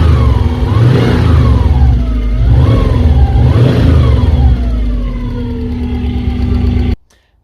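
A Subaru Impreza V1 WRX with a freshly installed intake manifold, running on all four cylinders again, loud and close as its engine revs up and falls back in repeated rising sweeps over a steady idle before cutting off abruptly.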